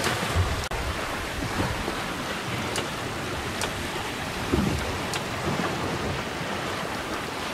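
Swell and waves wash steadily around a sailing boat on a close reach in light wind, a continuous broadband rush of water with occasional louder surges and faint knocks, no voices.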